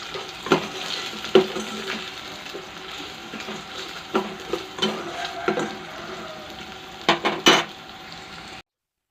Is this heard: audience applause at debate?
no